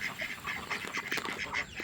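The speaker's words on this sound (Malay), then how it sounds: "Okey, ternakan yang pertama saya iaitu itik jambui. Ada dua jantan, tiga betina." Muscovy ducks feeding in a backyard garden pen, giving a steady run of close, breathy quacks and hisses that overlap one another throughout, with no talk.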